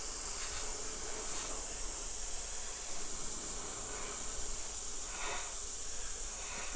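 Compressed air hisses from a spray gun painting a pop-bottle charger model, a steady low-pressure spray held close and unbroken, with faint airy bursts and no speech.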